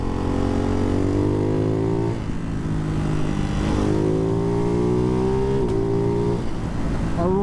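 A Ducati Hypermotard 698 Mono single-cylinder motorcycle with a Termignoni exhaust roars loud and steady while being ridden on a road, its engine pitch climbing and then dropping sharply at each gear change, two clear shifts with a crack.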